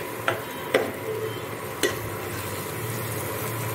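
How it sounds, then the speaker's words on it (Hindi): Masala with ginger-garlic paste for chicken curry frying in a pan: a steady, close sizzle broken by a few sharp spoon clicks from stirring. "मसाला को अच्छे से फ्राई कर लीजिए ताकि लहसुन और अदरक का जो रॉ स्मेल होता है ना वो चला जाए।"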